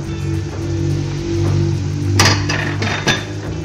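A small cooking pot being covered with its lid, a few sharp metallic clinks near the close, over a steady stove hum.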